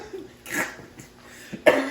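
Two or three short, harsh coughs close up, separated by brief pauses, with the last one the loudest.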